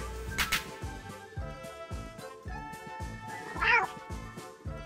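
A pet cat meows while its claws are trimmed at home, with several distinct close cries, one drawn out and louder near the end, over quiet handling noise.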